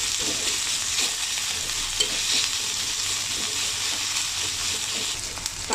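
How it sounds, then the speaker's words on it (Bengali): Chopped onions, green chillies and cumin frying for a samosa filling, a close continuous sizzle with a utensil stirring and scraping the pan, no voices. "আমি এখন এটা ভালোভাবে ভেজে নিচ্ছি, নরম নরম করে ভেজে নিতে।"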